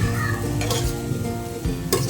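Washed rice for Gujarati masala khichdi goes into a hot tempering, setting off a loud, close sizzle broken by scraping stirs and a couple of sharp metallic clinks.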